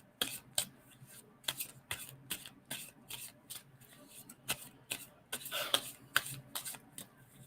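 Tarot cards being shuffled by hand in a steady run of crisp riffles and slaps, close up and moderately quiet, with faint talk in the background.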